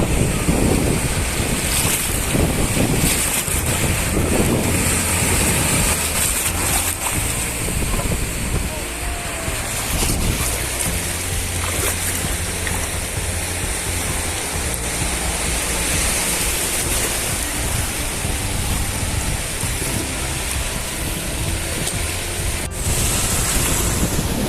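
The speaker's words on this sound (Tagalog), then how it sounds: "we have the opportunity to swim and play with the ocean and in the wave in here in Big Wave Beach" Ocean surf at Big Wave Bay Beach in Hong Kong roars steadily and close, with continuous wave wash, heavy wind buffeting the microphone and faint voices somewhere in the mix.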